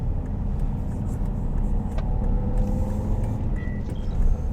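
Steady road traffic rumbles around a busy roundabout on a drive toward Gillingham, a dense low hum of cars and heavier trucks with no standout events and no talking.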